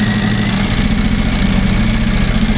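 A sewing machine runs steadily as it stitches fabric strip sets for an Irish chain quilt, producing a loud, close, continuous mechanical hum with a fast, regular pulsing and no talk.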